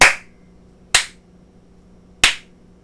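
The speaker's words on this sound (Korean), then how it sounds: "이렇게 박수를 칠 때마다 LED가 켜졌다 켜졌다 하는 것을 알 수 있습니다." Three sharp, separate hand claps, close and loud, set off an Arduino microphone sound sensor module in a quiet room, with short gaps between them.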